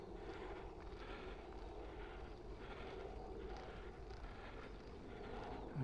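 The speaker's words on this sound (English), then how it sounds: "Aeroplanes flying over." Faint, steady engine drone of an airplane passing overhead, distant and continuous, with a soft outdoor background.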